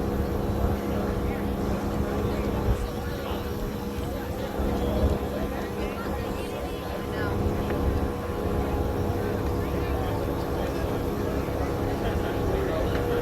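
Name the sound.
drone flying overhead at lake weigh-in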